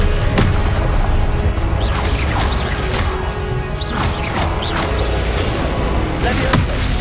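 The Expelliarmus spell cast in combat in the video game Hogwarts Legacy, a dense, loud mix of booming impacts and crashing hits that continues without a break.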